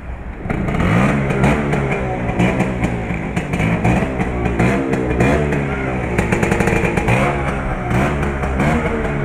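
An old Vespa scooter engine revs and putters while riding, close and loud, with a rough, throbbing two-stroke note that rises and falls in repeated surges of throttle.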